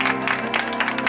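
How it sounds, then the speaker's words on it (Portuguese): Guests clap together at a birthday celebration for a wife in Itaquera, a brief loud patter of applause over a strong musical backdrop. "Uma salva de palmas,"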